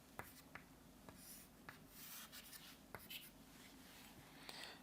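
Chalk or marker writing on a board during a Hindi-medium chemistry lecture on thermodynamics: faint, steady scratching strokes with short tapping ticks, close and quiet, with no talking.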